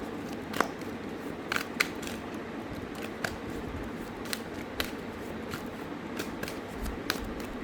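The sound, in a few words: tarot cards being shuffled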